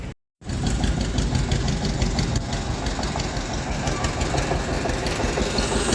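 Sugar mill cane carrier chains running steadily, a loud continuous clanking, rumbling drone that starts abruptly after a brief silence and carries on without pause.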